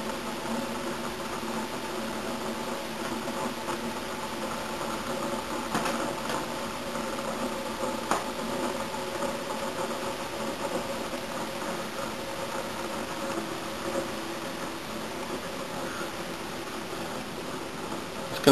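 A Bedini SSG machine's wheel, with C8 ceramic magnets around the rim, weights on the edge and a laminated wood and poplar frame, spins with a steady, even whirring drone and faint mechanical hiss throughout, with no talking.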